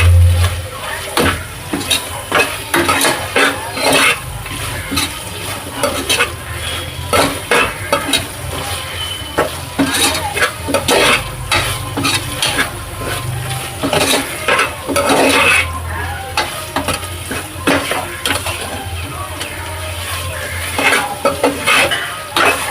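Ginger garlic paste and spice powders sauté in a pan for tomato rice, with loud, close, repeated scraping and clanking of a spoon against metal over a continuous sizzle.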